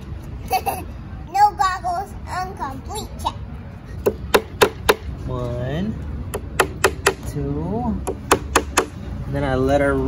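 Hammer blows ring out sharply while a raised vegetable bed is built for peppers, coming in quick bursts of several strikes at a time, close and loud, with a child and an adult talking between the hits.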